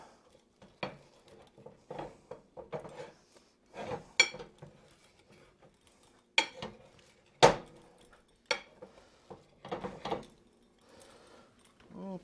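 Pizza cutter clacking and scraping through a pepperoni pizza in a cast iron skillet, a series of sharp metallic clinks and taps spread irregularly over several seconds, close and fairly quiet with handling noise between.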